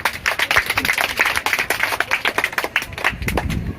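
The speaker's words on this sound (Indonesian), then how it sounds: "Tepuk tangan dulu." Children clap their hands together in a rapid, uneven flurry of sharp, close claps during a classroom-style visit from police, with a voice briefly heard.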